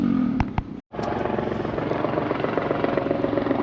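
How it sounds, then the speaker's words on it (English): A helicopter thrums steadily and loudly nearby at the cruise port in Hilo, Hawaii, its rotor chop continuous after a brief cut, with a couple of sharp knocks at the start. "So there's a noisy helicopter there."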